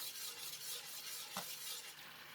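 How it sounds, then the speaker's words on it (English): Mixed vegetables stirred in a pan with oyster sauce, sesame oil and pepper, giving a faint, steady sizzle with a single soft scrape of the utensil partway through, with no talking. "Give it a stir."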